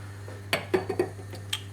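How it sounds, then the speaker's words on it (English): A lid is set onto a cooking pot with a few quick metallic clinks and rattles as it settles, then a last light tap, close and clear over a low steady hum. "Pop a lid on"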